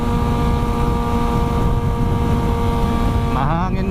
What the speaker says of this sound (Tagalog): Mahangin masyado dito.